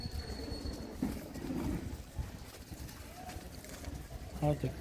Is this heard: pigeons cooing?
yes